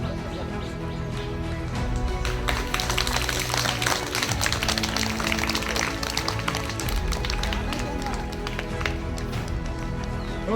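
A school audience honouring a soldier claps steadily, a dense, close patter of many hands that stays loud and even throughout.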